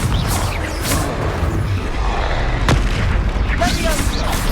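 A Confringo explosion spell goes off in Hogwarts Legacy, a loud booming blast with a sharp crack in the middle, over continuous game noise and effects.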